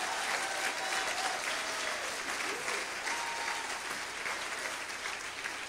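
A church congregation applauds loudly and continuously, dense clapping with faint voices mixed in, sustained evenly throughout.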